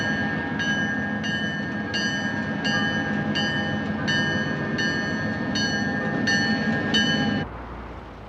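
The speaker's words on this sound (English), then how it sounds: "we just jump on a train and be on our way." A freight train rolls through a rail yard with a loud, steady rumble, while a high ringing tone pulses in regular bursts over it before the sound drops away abruptly near the end.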